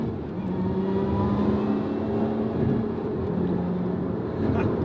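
A Lotus Emira in sport mode drones steadily from inside the cabin, its engine a constant mid-level hum under road noise, without talk.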